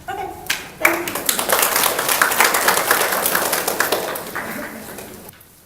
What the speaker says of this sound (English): I'd like to give Susan another round of applause.